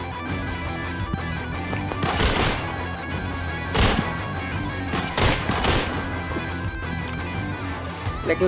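Gunfire in the shooter game Arena Breakout, several sharp bursts of rapid automatic shots spread across the clip over a constant background of game ambience.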